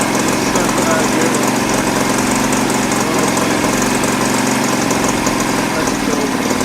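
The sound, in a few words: 1975 Honda CB200T motorcycle engine running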